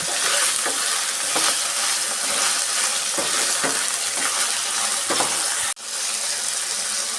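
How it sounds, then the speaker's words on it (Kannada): Onions sizzle steadily in a hot pan as they fry to a reddish brown for onion thokku, with repeated stirring scrapes and a brief sharp clatter near the end; no voices. "ಈ ಥರ ಕೆಂಪಿಗೆ ಹುರ್ಕೊಬೇಕು."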